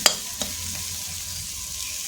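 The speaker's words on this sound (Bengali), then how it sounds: "বরবটি কিন্তু ভাজা হয়ে গেছে" Yardlong beans fry in oil in a kadai, a steady close sizzle with a couple of sharp stirring clicks near the start.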